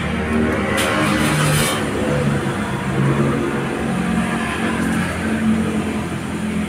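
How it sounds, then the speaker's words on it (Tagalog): A 2023 Foton Thunder truck's engine runs close by with a steady mid-range drone and slight rises in revs, heard alone without speech. "paanda rin natin yung makina para ma-check natin ng maayos"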